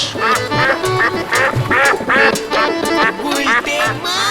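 A duck quacks repeatedly and loudly at close range, a string of nasal calls in uneven rhythm with voices mixed in around them.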